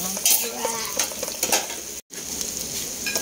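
Onions frying in a hot pan and being stirred with a utensil, with steady sizzling, scraping clatter and one brief drop-out near the middle; no talking.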